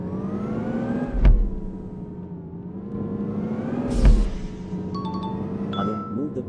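Bus engine in Indian Bus Simulator gameplay, a steady mid-pitched drone with slight revving swells, two dull thumps and a few short high electronic beeps near the end.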